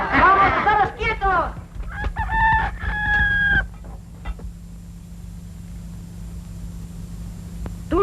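A rooster crows clearly in a film scene, with hens clucking around it; the crow is loud and close, followed by quieter clucks and a low steady hum underneath.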